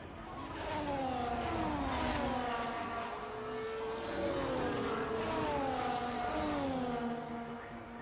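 Several F1 24 racing cars drive past one another, their engines whining and rising and falling in pitch in overlapping sweeps, loud and steady throughout with no talk.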